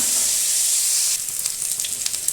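Cut sweet potato pieces go into hot oil, raising a loud, steady frying hiss that drops partway through into softer crackles and small sizzling pops; no talking.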